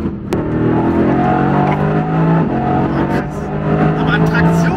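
Mercedes-AMG GT R with an upgraded turbo engine accelerating hard, a loud steady engine roar with rising harmonic tones and a gear-change dip, heard from inside with excited voices speaking over it.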